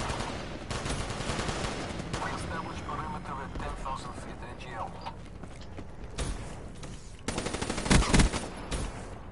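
Call of Duty gunfire, with rapid automatic bursts and shots crackling over a busy game soundscape, heaviest in a loud volley near the end, mixed with mechanical clatter.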